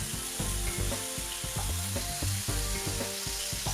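Cleaned, cut squid frying in a hot pan gives a steady loud sizzle, broken by repeated clanks and scrapes of a utensil against the metal.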